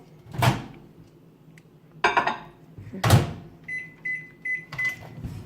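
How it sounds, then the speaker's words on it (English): Microwave oven sounds while making a mug cake: a few thumps and clunks like a door closing, then a steady electronic hum with short high tones, fairly close and clear. "let's go to the next step, and that's just to microwave it"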